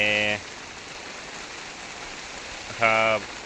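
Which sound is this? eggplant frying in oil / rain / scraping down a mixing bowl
rain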